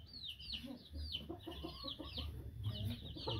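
Chickens cluck and chatter on a rooster ranch, a busy run of short clucks under faint background noise.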